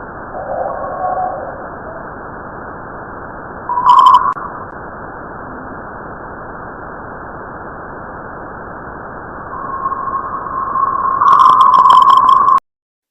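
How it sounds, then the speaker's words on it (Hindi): Purported recording of planet Mercury: an eerie, steady hiss of filtered static with faint warbling tones, swelling into brighter whistling bursts around the start, middle and end before cutting off abruptly, with no talking. "ये रही अब बुध ग्रह की आवाज।"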